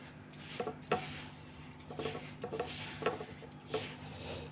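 Flour is rubbed together with ghee by hand in a bowl while making a sweet from moong dal and semolina, giving soft, close, rhythmic rustling and scraping with no talking.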